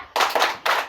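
Three sharp hand claps in an uneven rhythm during a classroom cheer, close and crisp with short gaps between them.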